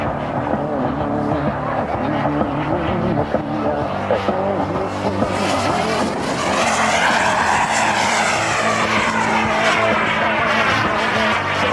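A model jet turbine roars steadily and loudly, its whine rising and sweeping as the aircraft passes by, with no talking over it.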